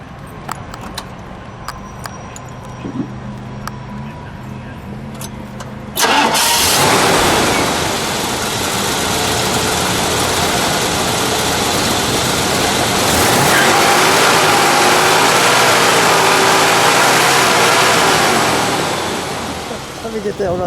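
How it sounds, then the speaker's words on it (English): A yellow 1973 Mercury Montego GT with a 351 engine cranks briefly, then fires and settles into a loud, steady idle with a few surges. The start comes after a quieter opening with faint background noise. "Let's fire it up. We'll let it idle."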